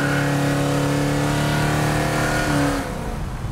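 An immaculately restored 1965 Chevrolet Impala with a 400+ horsepower big block V8 roars hard under acceleration, a loud close steady engine drone that climbs in pitch and then drops off near the end.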